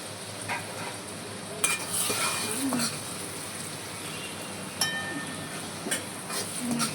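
Dal being stirred in a sizzling pan while making Rajasthani dal bati: a continuous frying hiss with intermittent scraping clinks from the spoon, fairly quiet, with a voice speaking over it.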